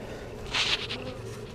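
Honey bees buzz around an open brood box while pollen patties are set during a spring hive inspection, a brief swell of close buzzing rising over steady background hum and then easing back.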